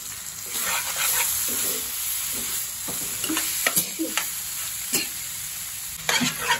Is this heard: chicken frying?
yes